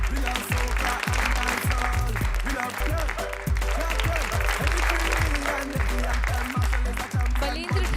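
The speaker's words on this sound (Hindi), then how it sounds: "तालियां कंटिन्यू बजती रहनी चाहिए" An audience applauds at a prize distribution ceremony for an education and welfare trust, continuous crowd clapping under loud music with a repeating beat and a voice over a public address system.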